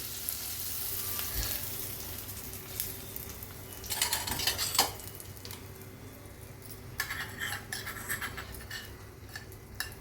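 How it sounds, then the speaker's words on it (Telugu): Spices crackle and sizzle in hot oil for ridge gourd peel chutney, a continuous close frying hiss with sharper bursts of popping and spattering, and no voices. "చూడండి, ఇలా చిటిపట్లు ఆడుతున్నప్పుడు తీసేసి ఎర్రగొట్టు పచ్చడిలో వేసేయాలి."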